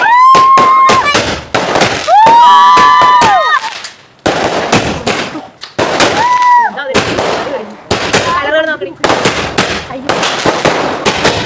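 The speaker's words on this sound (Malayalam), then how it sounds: "പടക്കം പൊട്ടിക്കലൊക്കെ കഴിഞ്ഞ് ഉറങ്ങി" Vishu fireworks bursting overhead in repeated loud booms and crackles, with whistling rockets rising between bursts, near and continuous.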